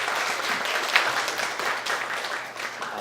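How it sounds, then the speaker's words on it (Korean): A crowd claps steadily and warmly for a few seconds, dense applause with no pause, fairly close. "다시 한번 큰 박수 부탁드리겠습니다."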